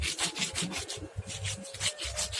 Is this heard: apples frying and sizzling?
no